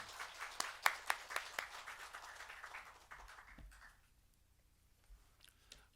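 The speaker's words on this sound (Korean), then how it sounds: "우리 박수로 환영하도록 하겠습니다." A church congregation claps to welcome a preacher at a Sunday worship service, with lively, uneven clapping and a few sharp claps that fade out after about four seconds, leaving quiet room tone.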